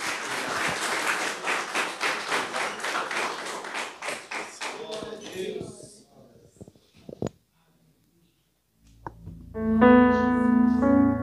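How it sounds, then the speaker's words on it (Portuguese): A church congregation claps in a brisk, rhythmic burst of applause for about five seconds before it fades out into near silence, followed by a few isolated thumps and then loud sustained music. "Uma salva de palmas para o Senhor, irmãos."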